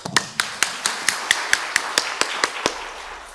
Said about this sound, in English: I would like to start with a clap for all of you first.